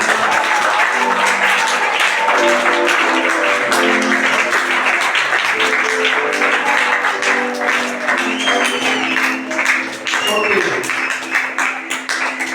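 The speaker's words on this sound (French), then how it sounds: "Acclame le Seigneur Jésus" A church congregation claps and cheers in acclaim for Jesus, loud sustained applause mixed with many voices shouting and singing throughout.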